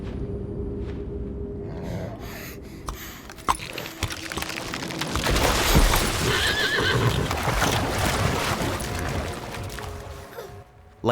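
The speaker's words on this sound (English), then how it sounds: "The king's son rides by quickly on a horse" A horse in Assassin's Creed Valhalla whinnies loudly and gallops, with hoofbeats and rattling tack building to a dense, busy burst before fading, with no voices.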